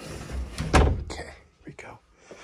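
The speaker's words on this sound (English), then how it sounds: "shut this door here" An interior door in a rural house pushed shut with one solid thud, followed by soft rustling and faint voices nearby.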